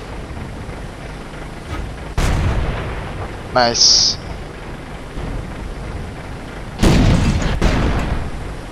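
Tank cannon fire in a tank battle video game: two heavy booming shots several seconds apart, each with a long rumbling decay, plus a short metallic ricochet ping between them, over low background noise and a brief spoken remark.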